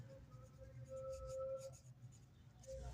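The answer is written on a board during a class 5 maths lesson on triangles, giving soft, faint scratchy strokes in short bursts over a low steady hum.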